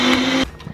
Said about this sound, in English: now we're going to blend it